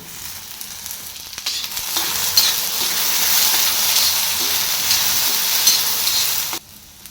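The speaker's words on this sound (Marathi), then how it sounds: "आता टाकूया चिरून घेतलेली भेंडी" Chopped okra tipped into a hot frying pan with onion, a sizzle that swells into a loud, bright, sustained hiss of frying with light stirring, then drops off sharply near the end; no one speaks.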